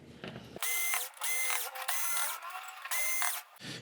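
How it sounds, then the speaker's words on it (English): An electric screwdriver whirs in several loud, close bursts while backing screws out of the main board of a Toshiba 50L1400U TV, each run steady with short pauses between. "Let's get these screws out of here."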